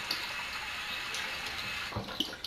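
Water splashes and swishes while a glass is rinsed out under running water, a short continuous wash with a few sharper splashes near the end, close by with no talk.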